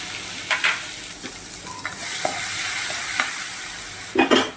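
Mustard seeds, asafoetida and ginger-chili-garlic paste go into hot oil for dhaba-style Kathiyawadi dum aloo: a steady sizzle with a few sharp pops and stirring clatters, close and fairly loud.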